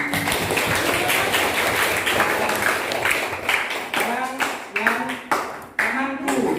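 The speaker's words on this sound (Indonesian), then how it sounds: "Tepuk tangan." Classroom clapping in an elementary school, a continuous wash of hands clapping that thins into separate claps toward the end, with children's voices mixed in.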